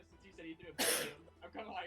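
A single sharp sneeze bursts out mid-conversation in a wooded outdoor setting, loud and close, with people talking before and after it.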